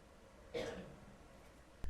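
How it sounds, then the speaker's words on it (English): A single short cough sounds faintly in the background against a quiet room hum. "Somebody legitimately decided to cough in the background of this"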